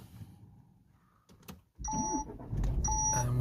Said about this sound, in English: we'll start the vehicle up again